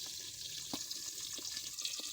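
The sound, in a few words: frying pindang tongkol fish in covered pan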